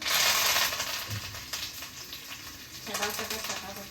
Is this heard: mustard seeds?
yes